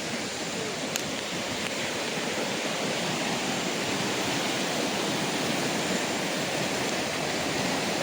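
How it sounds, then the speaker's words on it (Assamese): Kakoi river, flowing down from Arunachal Pradesh into Assam, roars in a steady, dense broadband rush that holds without a break throughout, like a waterfall or fast stream close by, with no voices over it. "অকল নদীৰ গুমগুমনি মাত শুনিছে ন চৰচৰণি মাত"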